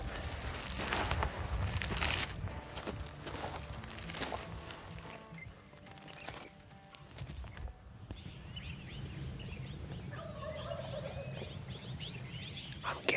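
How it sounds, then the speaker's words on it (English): Wild turkeys gobble at dawn on a hillside, the calls carrying from a distance over steady outdoor background noise, with a few louder bursts early on and fainter calls later. "Let them wake up, start gobbling on their own"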